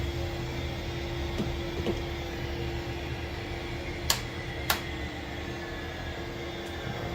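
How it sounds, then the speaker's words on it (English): An A-10C jet engine in a flight simulator game winds down during shutdown, a steady mechanical whine and hum that slowly falls, broken by two sharp cockpit clicks. "Shut down our left engine."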